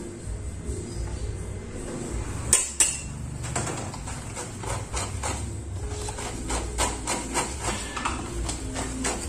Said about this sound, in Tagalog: halo-haloin lang natin to